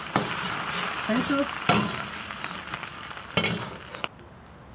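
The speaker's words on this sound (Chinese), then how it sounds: "下入鸡蛋， 还不急着搅啊" Eggs hit hot oil in a pan with a steady, loud sizzle, broken by a few scraping clatters of stirring, while a voice speaks briefly.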